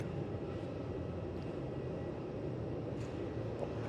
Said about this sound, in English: A couple of Jetstars pushing back.